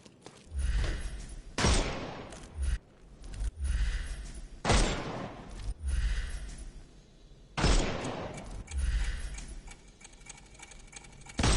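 Gunfire from the Sherlock Holmes Chapter One video game on PS5 as shots knock armour off enemies: several sharp, heavy bursts spaced a couple of seconds apart over a muffled rumbling game soundscape.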